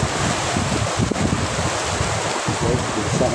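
Sea waves crash against a shore in stormy weather, a dense continuous roar of surf mixed with gusting wind buffeting the microphone.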